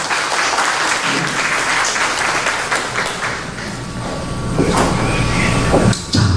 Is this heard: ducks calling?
no